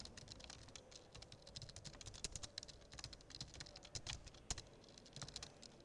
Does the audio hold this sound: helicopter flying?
no